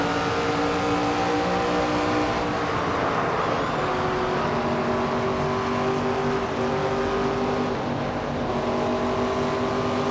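Race car engines in the NASCAR 25 video game drone and rev steadily throughout, with sustained harmonic engine tones and continuous loud mechanical noise, no talking.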